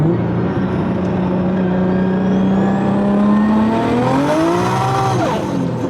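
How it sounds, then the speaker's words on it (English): A Barra-swapped Ford Mustang GT350 spins its tires on gravel, the engine droning loud and close with a rising pitch as it revs, crunching grit underneath. "We spun a little, but now you hear the tires being on the rocks."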